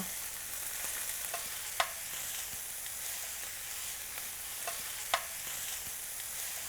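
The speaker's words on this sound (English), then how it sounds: "now let's mix it all together" Pasta and vegetables stirred together in a pot, a soft steady scraping and sizzle under a constant hiss, with two sharper clinks of a utensil against the pot standing out.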